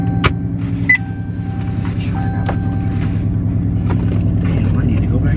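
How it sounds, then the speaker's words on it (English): A Scat Pack car engine idles after a cold start, a deep, steady rumble heard up close that runs without a break for the whole stretch. "Y'all ain't heard one of them nice cold starts in a long time."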